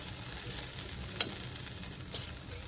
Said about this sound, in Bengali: মশলাটা ভালো করে ধৈর্য ধরে কষাতে হবে, রং ধরা পর্যন্ত, অয়েল রিলিজ করা পর্যন্ত